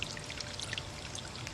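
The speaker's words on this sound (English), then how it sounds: "drain plug open so water can escape" Water drains from an inground pool's open drain plug, a soft continuous trickling and pouring with faint splashy droplets, quiet and steady throughout.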